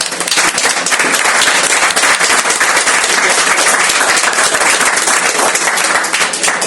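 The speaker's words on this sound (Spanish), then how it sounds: "Muchas gracias. Pueden aplaudir." Loud, dense applause from a seated audience at a talk and conversation event in Spanish, a crowd clapping continuously and evenly throughout, close and full, with no speech on top.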